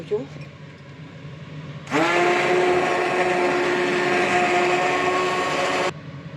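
An immersion blender purees cooked vegetable soup in a pot, a loud steady motor whine starting abruptly and running about four seconds before cutting off, with quieter background before.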